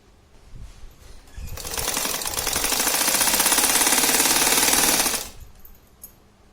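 A sewing machine runs a fast, rattling stitch along the side seam of a cloth shopping bag for about four seconds, with softer handling sounds before and after.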